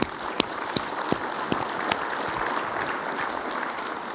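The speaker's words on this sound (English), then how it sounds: "So please, a round of applause." A conference crowd claps steadily for a few seconds, with a handful of sharper individual claps standing out above the dense applause.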